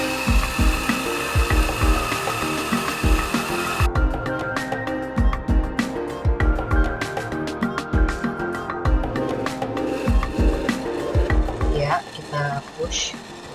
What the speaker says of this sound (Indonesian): Kita giling. Masih pakai ukuran grind size yang sama ya.